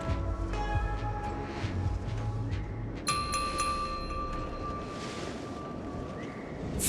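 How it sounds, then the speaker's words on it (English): A harmonic chime rings in Honkai: Star Rail, a clear sustained bell-like tone with shimmering overtones that starts midway and lingers over a steady ambient background, fading slowly. "We could try ringing the harmonic chime."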